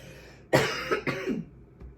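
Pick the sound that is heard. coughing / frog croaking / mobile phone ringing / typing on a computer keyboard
coughing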